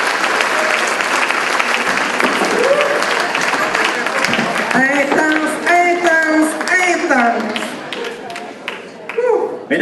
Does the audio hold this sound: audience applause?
yes